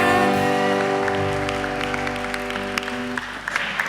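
Audience applause breaks out at a youth Christmas service as a sung carol's sustained final chord fades beneath it, a dense, steady clapping that carries on close and loud for the whole stretch.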